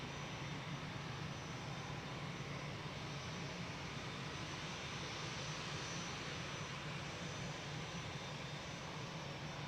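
Airbus A320 jet departing Amsterdam Schiphol on a windy day, a distant, faint, steady engine roar that holds without a break through the whole stretch, with no talking.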